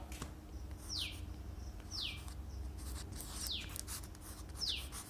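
A teacher writes on a classroom board during a lesson on prepositions: four faint, evenly spaced scratchy strokes over quiet room tone, with no speech.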